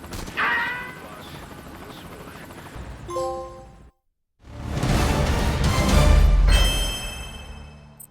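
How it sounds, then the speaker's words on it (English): Helicopter rotor and engine roar from a moving gunship in the Metal Gear Solid V video game, a steady loud whir that cuts out briefly, then returns louder amid game effects and bursts. "you are in a moving helicopter and shooting at a guy in another moving helicopter"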